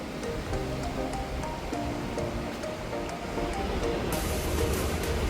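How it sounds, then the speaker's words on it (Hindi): Flowing Ganges river water at Har Ki Pauri at 2:30 at night, a continuous rushing wash of current, moderately loud and steady, swelling slightly toward the end. "जरा ध्यान लगा के पानी के बहाव की आवाज सुनिए"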